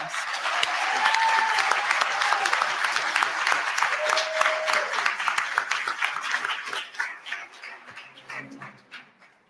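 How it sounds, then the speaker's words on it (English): A board meeting audience breaks into sustained applause, dense clapping from a crowd that holds steady then tapers off toward the end, with a few faint whistles or cheers. "Give yourselves a round of applause."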